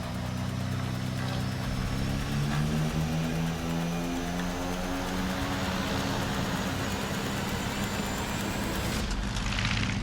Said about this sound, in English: At takeoff, the pilot cuts one of the 2 engines, causing the giant plane to struggle.